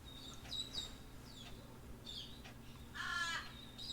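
A crow caws several times outdoors, a series of harsh calls spaced irregularly with a louder, closer burst near the end, over a steady low background hum.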